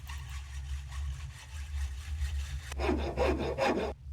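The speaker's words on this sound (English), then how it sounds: "Sound of sawing." Wood is sawed in the Nancy Drew video game Treasure in the Royal Tower: about four rough back-and-forth strokes, loud and close, starting after a stretch of low ambient hum.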